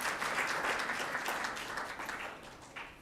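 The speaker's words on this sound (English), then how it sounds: "A round of applause to MOH team." Applause for the Ministry of Health team at a World Malaria Day event: a sustained crowd of clapping hands, fairly dense at first and gradually thinning toward the end.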